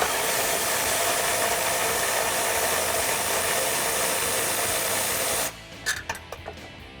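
Close, continuous rapid ratcheting of a ratchet wrench removing a Jeep Wrangler bumper bracket bolt, running steadily for over five seconds before stopping with a few metallic clinks.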